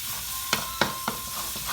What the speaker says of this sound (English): what you want to do is cook your tomato paste out.